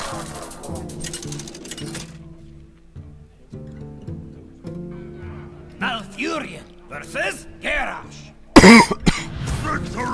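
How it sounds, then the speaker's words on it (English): Several harsh coughing bursts toward the end, loud and close, breaking over steady electronic game music during a Hearthstone arena session. "This cough just butchering me, absolutely butchering me."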